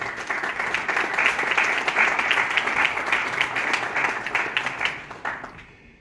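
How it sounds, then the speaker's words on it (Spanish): Audience at a book presentation event applauds with a dense, sustained burst of clapping that swells and then tapers off toward the end, with no talking over it. "quiero que brindemos un fuerte aplauso"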